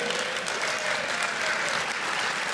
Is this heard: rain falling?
no